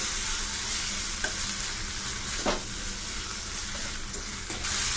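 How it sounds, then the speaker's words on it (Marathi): Ginger, cumin and garlic stirred into a sizzling masala in a pan for Nepali-style chicken curry, a steady close frying hiss broken by a few light scrapes of a spoon, with no voices. "आलं, जिरं, लसूण हे बारीक केलं आहे ते आता आपण ह्यामध्ये मिक्स करून घेऊया।"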